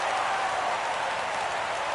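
A stadium crowd of over 27,000 at a baseball game between the White Sox and the Twins, on its feet one strike from a shutout, roars in a steady, dense wash of cheering and applause that holds for the whole stretch.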